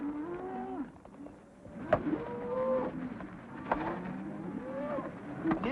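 Cattle held in a small canyon moo repeatedly, several long low calls from different animals overlapping at moderate distance, with faint background noise between.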